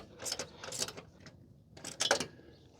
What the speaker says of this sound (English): You can tighten it down. They supply this wrench with your kit.